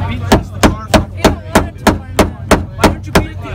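A hammer pounds dents out of a supercharged car's body in a steady run of about eleven loud, evenly spaced metallic whacks, close by with no talk.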